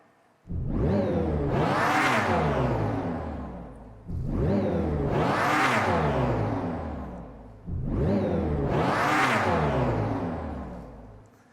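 Three identical synthetic engine revs from a Dodge Charger Daytona SRT electric concept car, each rising into a loud, whooshing roar then fading, repeated at regular intervals.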